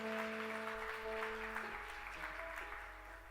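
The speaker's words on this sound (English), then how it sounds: "Please welcome her with a big round of applause." Conference audience at an international women and peace event claps in welcome, a moderate, even patter of many hands heard from a distance over a low steady hum, fading slightly toward the end.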